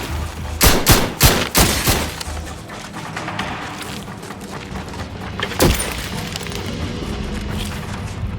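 Gunfire in The Outer Worlds 2, several loud close shots in quick succession early on, a lone heavy report later, and a steady din of combat noise in between.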